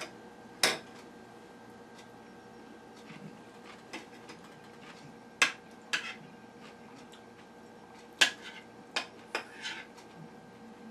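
A utensil scrapes and clinks against a bowl while mixing salad with ketchup, sweet relish and mayonnaise, giving sparse, sharp taps and clatters over a quiet room.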